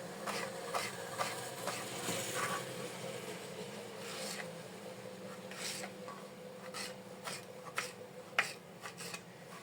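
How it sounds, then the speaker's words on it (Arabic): A knife cuts unpeeled eggplant into cubes on a board with quiet, close, repeated soft slicing and rubbing strokes and occasional sharper taps. "غادي نقطع الدنجال كله"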